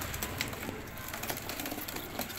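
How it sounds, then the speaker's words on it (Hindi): Soft pigeon cooing in a noisy outdoor setting, faint and intermittent against a steady background hiss. "ये बोचाल कबूतर हैं"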